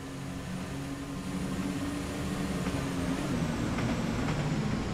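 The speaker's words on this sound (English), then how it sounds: "I hear another train" Class 172 diesel multiple unit in a train simulator game on the North London and Goblin lines, a steady low engine drone with a continuous rolling rumble, moderately loud and unbroken, with no talking.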